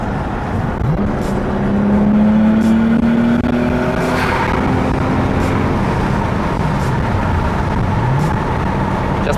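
A Nissan Skyline GT-R with an RB26DETT engine accelerates to overtake during a test drive in Yakutsk. Heard from inside the car, the loud engine note climbs in pitch, drops at a gear change and then climbs again.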